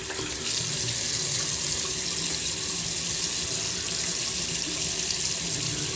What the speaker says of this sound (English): I'm going to go ahead and wet my face a little bit.